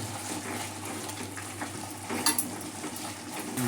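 Jaggery and mango mixture bubbling and reducing in a pan on high gas, with a steady low sizzle and occasional clinks of a spoon stirring against the pot, close and fairly quiet.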